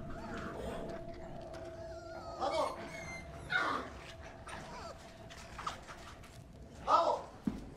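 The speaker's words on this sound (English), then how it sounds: "Puppies." Puppies whimper and yip in thin, high, wavering cries that rise and fade in short bursts over a low, quiet background, with a steady faint hum throughout.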